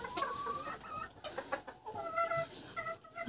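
Several chickens and young roosters cluck and chatter nearby with short, overlapping calls, quietly and continuously, with no voices.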